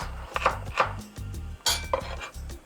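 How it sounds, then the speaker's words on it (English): Ginger is sliced with a knife on a cutting board, heard as a run of crisp, evenly spaced chops close by, about eight strokes with one sharper knock, with no talking. "The other one that we're going to use is some ginger. Cut them in the slices."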